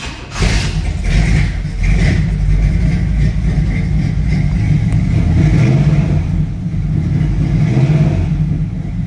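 A carbureted 1967 Camaro RS engine runs with a steady, deep low rumble through Magnaflow mufflers. The sound is loud and close, with slight swells that suggest light throttle blips over the idle.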